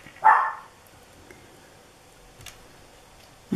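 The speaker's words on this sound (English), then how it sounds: "Oh dear, there's my dog again." A pet dog in a house on a busy street lets out a single sharp bark, fairly near, followed by near silence and a couple of faint knocks, with no talking.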